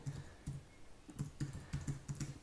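Keys on a Mac computer keyboard tap in an uneven rhythm of about a dozen soft, close clicks, some in quick pairs, with no talk.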